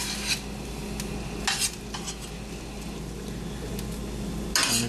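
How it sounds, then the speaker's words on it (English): Steady frying sizzle of Chinese fried rice in a hot pan with a few sharp scrapes and clinks of a utensil stirring, no voices. "so it's turned up till you see it sizzle."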